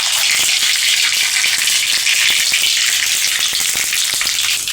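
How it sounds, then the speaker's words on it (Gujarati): A spoonful of mustard seeds with cumin drops into hot oil and sizzles loudly and continuously, with rapid sharp pops and crackles scattered throughout and no voices. "આપણું તેલ સરસ ગરમ થઈ ગયું છે। આપણે તેમાં 1 ચમચી જેટલી રાઈ નાખીશું"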